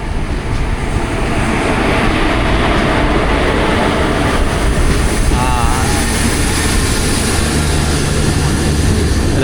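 Steady loud rumble of a Ratnagiri–Diva passenger train on the Konkan Railway, continuous rolling noise filling the whole stretch with no clear breaks, heard from close by as in a train journey in the rain.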